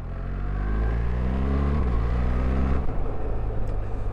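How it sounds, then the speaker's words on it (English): A BMW R1300GSA motorcycle engine revs with quick auto-blip throttle blips and drops in pitch as it downshifts, loud and close, steady engine drone throughout. "I'm just going to use the auto blip to see what it's like."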